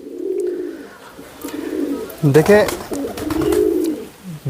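Pigeons kept for breeding and flying coo in soft, rolling bursts close by, broken up by a short flutter, while someone speaks briefly over them.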